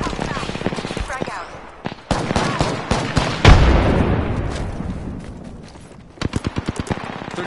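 Rapid bursts and single shots of gunfire in the battle royale video game Apex Legends, loud and close, with a heavy blast near the middle and a fast volley near the end, mixed with game effects.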